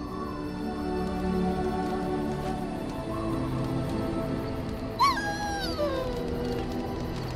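Howling and whimpering from a dog at the Dragon Age camp rise over steady ambient background noise, with a sudden falling whine late on and a few softer cries after it.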